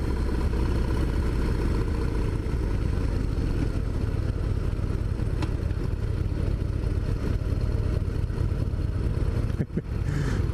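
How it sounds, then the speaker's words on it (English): A 2017 Harley-Davidson Dyna Low Rider S with a rubber-mounted engine runs steadily at about 2000 rpm, a close, constant rumble with no talking. "Nice power plant here, despite the rubber mounted engine."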